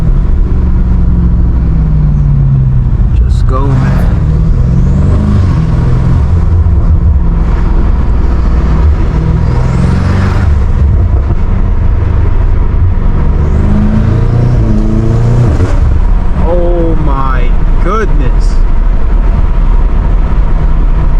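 A catless F90 BMW M5 Competition roars along backroads, its engine and exhaust loud and close as it revs and surges repeatedly, with a brief spoken remark from inside the car.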